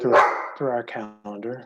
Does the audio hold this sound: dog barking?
yes